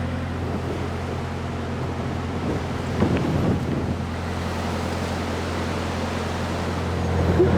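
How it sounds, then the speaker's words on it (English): Strong wind buffets the microphone on a narrowboat in a steady, broad rush over a low hum, with a brief gusty swell midway, outdoors and fairly loud, with no voices. "it is actually quite windy"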